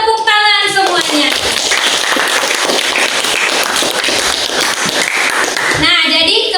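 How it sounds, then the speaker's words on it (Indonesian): A classroom of students claps together in a loud, close burst lasting several seconds, with a voice speaking before and after the clapping. "Tepuk tangan semuanya"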